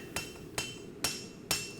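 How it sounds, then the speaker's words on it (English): A dog's head style hammer strikes a blade edge during planishing at a forge, giving four evenly spaced, sharp metallic taps with ringing tails, close and clear. "he's got his dog's head style hammer"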